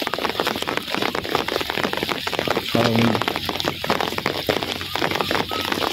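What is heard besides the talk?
rain falling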